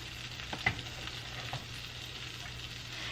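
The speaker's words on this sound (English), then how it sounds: "Y'all hear it sizzling." Quiet, steady sizzling of Maryland-style crab cakes frying in a buttery pan, a soft continuous crackle with a few faint clicks and no voices.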